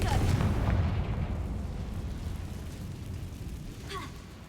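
A Confringo blasting spell goes off in the video game Hogwarts Legacy, a loud, deep boom that rolls out into a long, fading rumble, followed near the end by a smaller burst.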